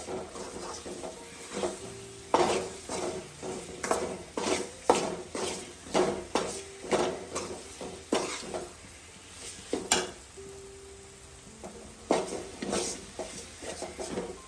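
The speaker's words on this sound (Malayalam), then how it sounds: "വിനാഗിരി ചേർക്കുകയാണ്. നല്ലൊന്ന് ചൂടാകട്ടെ, തിളക്കട്ടെ." Vinegar heats in a pan for lemon pickle, with a soft sizzle beneath repeated close scrapes and clinks of a spoon stirring against the metal pan; no one speaks.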